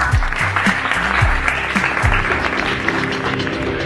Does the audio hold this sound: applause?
yes